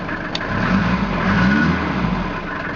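A car engine revs up with a steady mid-pitched drone, rising and falling slightly, close by and continuous for a few seconds.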